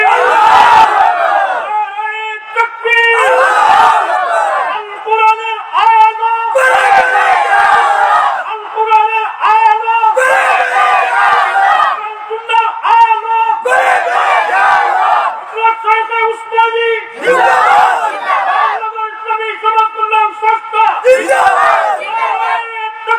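A large crowd chants Nara-e-Takbir in loud, rhythmic call-and-response waves, with repeated collective shouts separated by brief pauses and echoing across an outdoor gathering.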